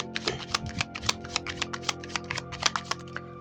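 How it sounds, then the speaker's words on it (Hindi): Tarot cards riffle and snap together in a steady, close shuffle, a rapid series of crisp papery clicks over a faint low background hum, with no voices. "So let me shuffle more."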